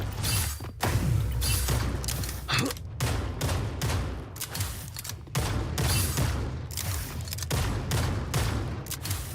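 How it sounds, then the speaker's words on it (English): Rapid bursts of gunfire from the Marvel Rivals video game fire in dense, close, repeated volleys with mechanical clatter, nearly continuous through the clip. "He's just shooting randomly."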